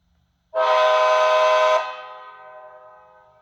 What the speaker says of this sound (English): let's go back to the Siemens Charger and do the horn one more time.